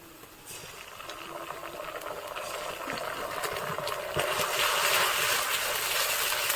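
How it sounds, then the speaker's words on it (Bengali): Ginger-garlic paste fries with lightly browned onions in a pan, a steady hissing sizzle that grows louder and denser, with faint scraping clicks. "এবার এর মধ্যে আমি বেটে রাখা আদা রসুনটা দিয়ে দেবো"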